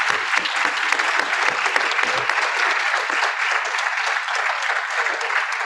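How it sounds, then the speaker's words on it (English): A conference audience at the COP26 Commonwealth Pavilion evening session applauds an award winner, dense continuous clapping from many hands, loud and steady throughout with a faint murmur beneath. "we should really give them a hand of applause."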